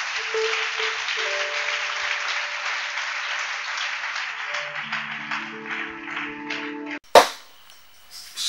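A church congregation claps together in dense, steady applause under a sustained tone, then the clapping thins out and a single sharp bang cuts through near the end.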